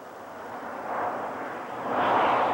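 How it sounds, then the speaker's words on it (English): Soviet-made MiG fighter jets flying overhead, a steady broadband jet roar that swells twice as the aircraft pass close, with no voices. "Sophisticated Soviet-made MiG fighters began crossing over from China to intercept bombers"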